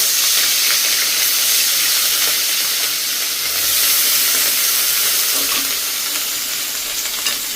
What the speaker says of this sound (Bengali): তেলটা গরম হয়ে গেছে, আমি আলু ভেজে নামিয়ে নিয়েছি। এখন এখানে দিয়ে দেব তেজপাতা, দেব পেঁয়াজ বাটা